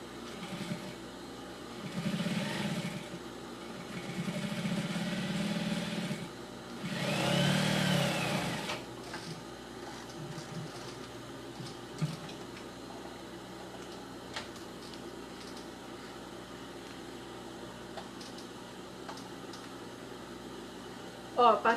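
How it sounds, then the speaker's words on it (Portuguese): An industrial sewing machine stitches bias binding in three bursts of steady motor whir, each a few seconds long, with quiet gaps and a long stretch of low room noise afterward. "como eu tô costurando aqui numa máquina industrial"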